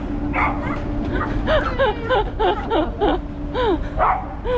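A small dog gives a run of short, high yips and whimpers, close by and repeated in quick irregular bursts over a low background murmur.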